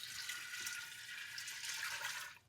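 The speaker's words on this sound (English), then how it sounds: "I've got 4 cups of cold water going in." Cold water pours steadily into an Instant Pot over pinto beans, a continuous hissing splash at close range that fades out at the end.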